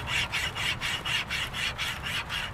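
A wire cable saw strung as a bow saw cuts through a dry wood limb in about ten steady back-and-forth rasping strokes, close and rhythmic with no talking.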